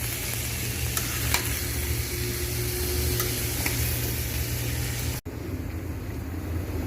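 Tomatoes fry in hot oil with ash gourd for a lentil dish, a loud, steady sizzle broken by a few sharp stirring clicks before the noise drops suddenly to a quieter simmer.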